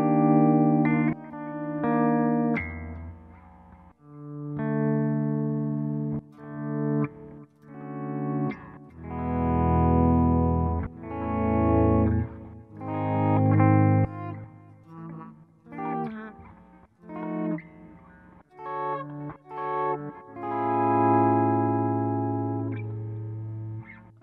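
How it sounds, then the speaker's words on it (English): An electric guitar runs through the Auto Volume Echo delay on a Line 6 POD Go, playing swelling, fading-in notes and chords that repeat as soft echoes and ring out over a long melodic passage. "Auto Volume Echo, a Line 6 original."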